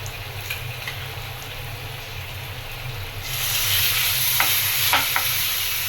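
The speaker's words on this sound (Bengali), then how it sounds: "এখন দিয়ে দিলাম বেছে নেওয়া মাছগুলো, ভালোভাবে নেড়ে চেড়ে রান্না করে নেব।" Tilapia fish sizzling in a pan with turmeric, salt and chilli powder, a steady fry that grows louder partway through as the pieces are stirred, with a few scraping clicks of the spatula.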